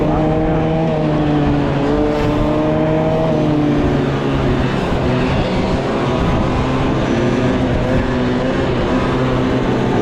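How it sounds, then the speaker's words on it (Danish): Engine noise from a car during a drive in Randers, a steady loud drone with shifting pitch as it revs and changes gear, continuous throughout with road rumble underneath. "Det er motorlarm!"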